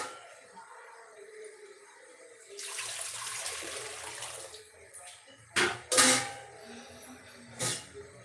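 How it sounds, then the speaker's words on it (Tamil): Water gushes from a tap into a pressure cooker for a couple of seconds, then a few sharp clanks and knocks of metal follow, fairly close. "கொஞ்சம் தண்ணி பிடிச்சி அதில் குக்கரில் வச்சுருவோம்"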